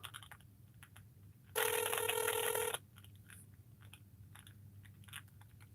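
A telephone rings once in a loud, bright electronic burst lasting about a second, set against quiet background noise with faint scattered clicks before and after.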